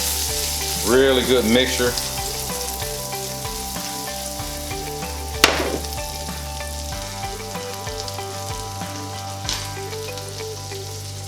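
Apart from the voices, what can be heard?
onions frying in a skillet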